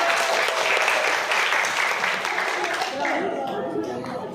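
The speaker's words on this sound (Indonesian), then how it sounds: "berikan tepuk tangan dulu biar teman-teman" Audience clapping at a personal development and beauty class, with a full burst of applause that tapers off near the end as chatter and light laughter come through.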